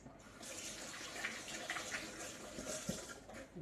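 Water is poured into a glass, making a faint, continuous splashing trickle for a few seconds with no voices.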